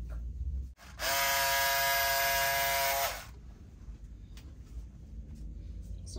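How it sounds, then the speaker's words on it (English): A small electric cutting tool slices through Ankara fabric, a loud, steady motorized buzz that lasts about two seconds and then stops, leaving quiet room noise. "So I'm going to be using this now to cut the Ankara fabric."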